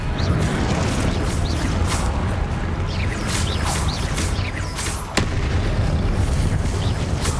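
Confringo explosive spells go off again and again in the Hogwarts Legacy video game, a quick run of booming blasts and crackling bursts layered over a constant rumble, with one sharp crack standing out near the end.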